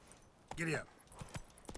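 Horse hooves clip-clopping as Roach is ridden in a video game, a short run of light rhythmic hoof steps following a brief voice, fairly faint against background game ambience.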